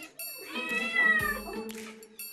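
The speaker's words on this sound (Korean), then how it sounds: "하지만 사랑이 사남매의 항의가 계속 이어집니다" Several house cats meow loudly and insistently in a row, overlapping calls close by, as if protesting at mealtime in a home where the owner eats at a table.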